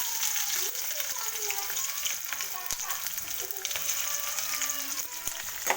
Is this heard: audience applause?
no